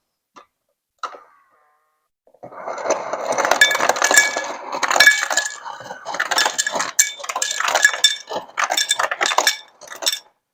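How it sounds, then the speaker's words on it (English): Small craft ice cubes from an LG LRMDC2306S refrigerator freezer clink and rattle against each other in several bursts of bright, close tinkling, with a couple of isolated clicks at the start. "it also produces craft ice down in the freezer section. The cubes are a little on the small side."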